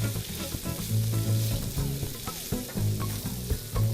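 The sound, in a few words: shrimp and bacon frying in a pan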